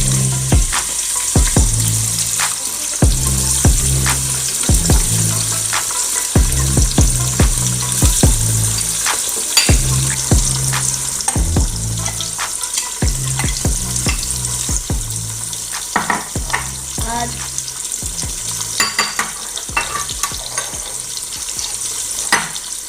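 Onions and tomato frying for a chicken sauce, a constant bright sizzle broken by repeated scraping stirs in the pan, close and loud, with no voices.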